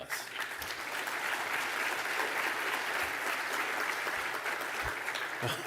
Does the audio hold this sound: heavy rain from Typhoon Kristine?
no